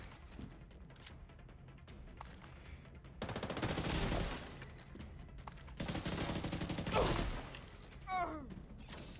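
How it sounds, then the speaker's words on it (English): Gunfire crackles as bursts of rapid shots, coming in two dense stretches of several seconds each with quieter gaps between them. The shots sound moderately distant and are followed by a few scattered sharper pops. "Some shooting"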